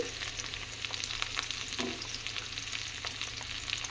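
Drumstick pieces frying in a pot of dal tempered with five-spice and dried red chili, giving a soft, even sizzle with light crackles and a brief stir, steady, close and without talk.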